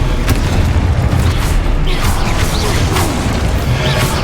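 In the Hogwarts Legacy video game, a Confringo fire-blast spell detonates with a loud, dense booming explosion and crashing debris, sustained and close through a busy battle mix.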